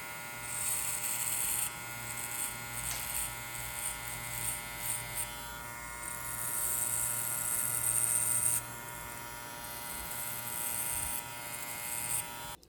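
A Monster Assassin hair clipper with a crispy blade runs close up, giving a steady electric buzz with a bright metallic edge. The pitch shifts slightly as the clipper is handled, and no one talks.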